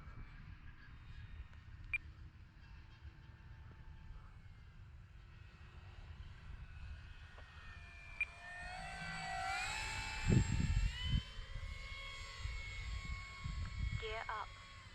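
A Dynam BF 109 radio-controlled model warbird drones at a distance, its small electric motor whining and rising in pitch as it passes overhead on a landing drill, over steady outdoor background hiss.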